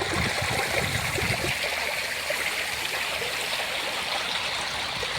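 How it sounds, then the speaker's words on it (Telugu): Waterfall near Kappalagundi village in Paderu mandal, Alluri district, a steady broadband rush of falling and flowing water, loud and constant throughout, no voices. "ఇప్పటి వరకు మీకు ఈ వాటర్ ఫాల్స్ ఎవరు చూపించలేదు అనుకుంటాను"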